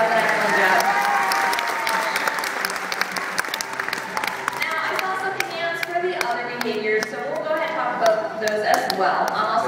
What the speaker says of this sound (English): Alright, another round of applause for Chesapeake.